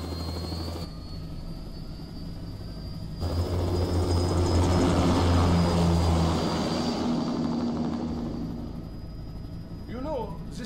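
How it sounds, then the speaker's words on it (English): Aircraft taking off in the video game Metal Gear Rising: Revengeance, a rising whine and roaring engine thrust that swells loud then fades, with a high steady tone on top and brief speech at the end. "Commencing takeoff in semi-auto mode."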